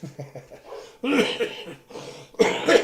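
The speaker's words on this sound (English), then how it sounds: "Smoker's cough." A few throaty smoker's coughs come in short bursts, rough and close, with brief pauses between them.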